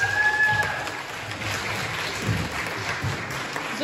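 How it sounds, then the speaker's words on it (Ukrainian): Audience applause at a Christmas student concert in a hall, a steady wash of clapping from a crowd lasting a few seconds, moderately loud and even, with a brief tone early on. "Оплески для Ані Вікшон!"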